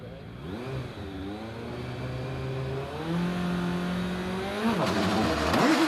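A hillclimb race car at Prescott on Avon tyres launches and accelerates hard, the engine note rising through several gear changes, loud and steadily building, with no talk over it.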